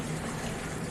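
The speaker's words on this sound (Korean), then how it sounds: "제가 지금 그림을 그리고 있는 공간이 참 알 수 없는 물소리가 엄청나요" Steady broadband rush of running water fills a room used for oil pastel drawing, a constant hissing wash with a faint low hum beneath it and no pauses.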